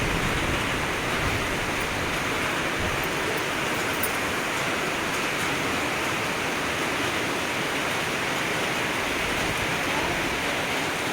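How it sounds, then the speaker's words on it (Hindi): Heavy monsoon rain pours down in a dense, loud, unbroken hiss that stays constant throughout, with no voices. "खूब तेज़ बारिश लगी अब।"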